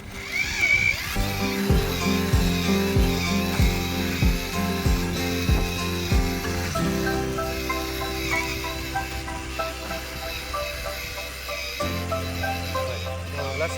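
A Pubert Fairtill tiller works very hard ground, its engine droning close and loud while tines knock rhythmically through the soil, with a faint voice in the background.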